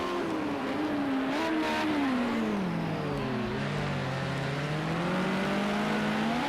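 Porsche and BMW race cars in Project Cars 2 circling Ruapuna Park in a Group 5 race, engines droning and pitching up and down through gear changes, one car's note rising and falling steadily, loud and continuous.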